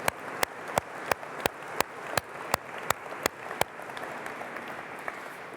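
An audience at a charitable foundation's annual afternoon lecture applauds, steady broadband applause topped by one close, loud clapper striking at an even beat, then tapering off near the end.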